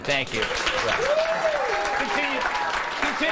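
Applause from a live TV studio audience, moderately loud and continuous, with a voice talking over the clapping partway through.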